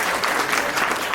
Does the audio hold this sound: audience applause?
yes